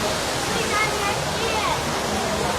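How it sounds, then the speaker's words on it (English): A waterfall rushes steadily across from a hotel in Waikiki, Hawaii, making a dense, unbroken roar of falling water that stays even throughout, with a voice faintly present beneath it. "right across from these beautiful waterfalls"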